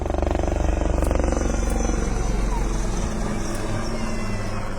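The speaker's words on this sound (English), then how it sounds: "Rudra 1 is now carrying out an armed helicopter's traffic run and combat maneuvers to engage the target area in front of you." An armed Rudra helicopter flies combat maneuvers at a military tattoo display in Kolkata. Its rotors and turbine drone loud and steady and close by, with rapid rotor chop throughout and no break.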